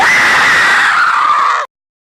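A woman in a horror film trailer lets out a single loud, sustained, high-pitched scream that holds steady for about a second and a half, then cuts off abruptly into silence.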